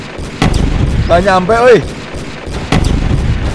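Gunshots ring out in a video game, a few sharp loud cracks spaced apart, with someone talking briefly in between.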